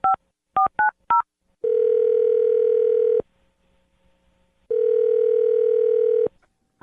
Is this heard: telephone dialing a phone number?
yes